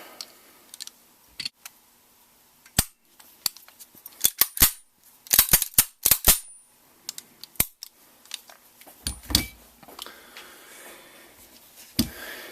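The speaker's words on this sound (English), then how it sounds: "So let's go ahead and put this thing back together." A Sig Sauer Tac Ops 1911 pistol being reassembled by hand: scattered sharp metallic clicks, snaps and slides, some in quick clusters and others isolated, close and crisp over a quiet background.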